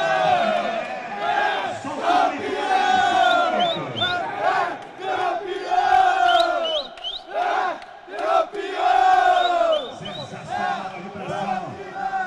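Crowd cheering and shouting at a masters volleyball final awards ceremony for the champion men's 35-plus team in Saquarema, Rio de Janeiro, a loud sustained roar of voices with whoops and yells rising and falling throughout.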